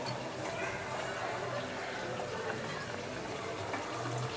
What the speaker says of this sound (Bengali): এখন পানি দিয়ে দিব